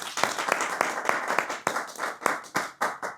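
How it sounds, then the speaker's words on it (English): A small audience claps for a few seconds, a sparse and uneven patter of individual hand claps, fairly close and modest in volume. "So give a round of applause for yourselves."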